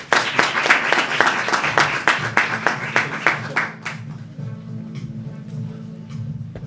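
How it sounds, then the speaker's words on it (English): A live audience applauds a speaker with distinct, close claps that thin out and fade after a few seconds, leaving a low hum and faint room noise. "So guys, give a round of applause to Miles Kubekha."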